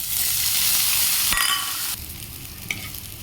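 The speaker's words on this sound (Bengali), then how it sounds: "তেল গরম হয়ে গেছে, করলাটা ভেজে নেব।" Bitter gourd fries in hot oil in a pan, giving a bright, dense sizzle up close, with a sharp stir and spatter midway and the crackle easing slightly toward the end.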